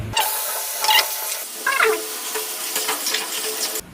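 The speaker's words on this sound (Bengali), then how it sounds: "এবার পেস্টটা কড়াইতে দিয়ে দিলাম" Spice paste hits a hot wok and sizzles loudly, with a few scraping stirs in the first seconds, then settles into a steady frying hiss until it cuts off.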